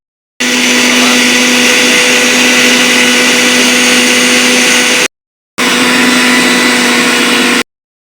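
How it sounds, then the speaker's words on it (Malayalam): A mixer grinder whirs loudly and close as it grinds a spice paste of cumin, shallots, garlic and turmeric in a home kitchen. It runs in two bursts, one of about five seconds and a shorter second one, each stopping abruptly. "അപ്പൊ അരപ്പ് എടുത്തിട്ട് അരച്ചിട്ട് വരാമേ"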